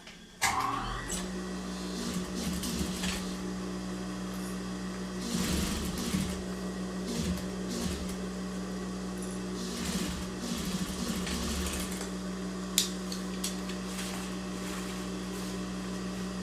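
Sewing machine running in steady stretches as it stitches a maternity bag, a continuous mechanical hum with short pauses between seams, close and fairly loud, no talking.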